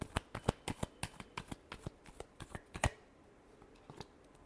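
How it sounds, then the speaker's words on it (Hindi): Playing cards, likely a tarot-style deck, are shuffled in a quick run of about a dozen crisp riffling snaps, fairly faint and close, then the shuffle stops and a few soft card handling sounds remain. "Last shuffle."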